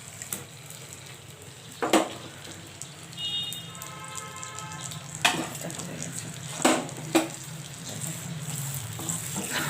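Shrimp frying in a pan with tamarind and kohlrabi, a soft steady sizzle running throughout with a few louder clatters and stirring knocks over it.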